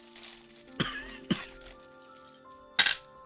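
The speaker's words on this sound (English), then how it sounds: "I'm just rounding out week 1 of the 3-week cough I seem to get every time I get a cold or a flu" Three sharp, separate coughs break out at intervals over quiet room tone, the last one loudest and close.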